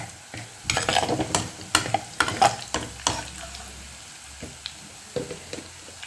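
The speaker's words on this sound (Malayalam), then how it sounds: "ഇളക്കി ഏതാണ്ടൊരു ചുവപ്പ് നിറം വരക്ക് നമുക്ക് ഇതിനെ ഇളക്കി കൊടുക്കാം" Onions with chili and coriander powder are stirred in a pan for a Kerala-style fish curry, a series of close, sharp spoon scrapes and clatters over a light sizzle, busy at first and then sparser, with no speech.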